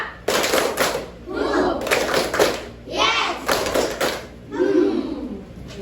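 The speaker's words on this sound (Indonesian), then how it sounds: "Tepuk satu. Tepuk dua. Tepuk tiga. Tepuk 1, 2, 3." A classroom of children claps along in a counted rhythm during a teaching session, several bursts of hand claps spaced by pauses, mixed with a teacher's voice leading the count.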